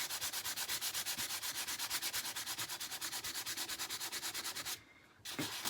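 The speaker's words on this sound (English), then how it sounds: "But just sanding gently gives some lovely effects." Sandpaper is drawn gently over dry paint on a paper sketchbook page in quick, regular rubbing strokes, close and soft, with a short pause before the strokes resume.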